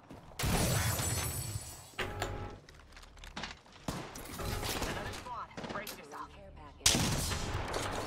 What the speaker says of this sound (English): he's just spam firing the triple take